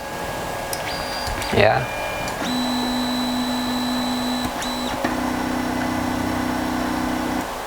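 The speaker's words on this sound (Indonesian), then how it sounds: "simbol Rexis di sini, printer akan homing" Rexyz A1 3D printer homing, its stepper motors whining in steady sustained tones that shift pitch in stages, with a brief clunk early on and a short spoken word over it.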